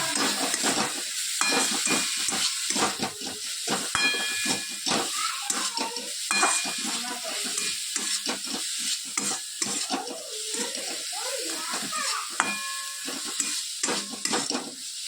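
A masala of hing, turmeric, coriander-cumin powder and salt roasts in a pan. Brisk scraping stirs and a hissing sizzle repeat throughout, over a faint wavering tonal background, with no clear talking.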